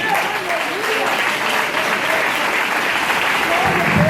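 A church congregation applauds at a Portuguese-language missions congress, a steady dense wash of clapping held throughout, with voices calling out underneath.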